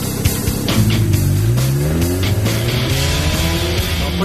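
A homemade car built from scrap metal pulls away hard, its engine revving loudly and close with rising pitch through several gear-like climbs, tires faintly squealing beneath.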